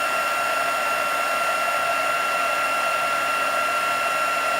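Heat embossing tool blowing hot air onto a stamped card, a steady whirring hum with a high motor whine, close and continuous.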